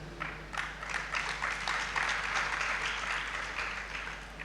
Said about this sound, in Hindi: देखो सबने ताली बजाई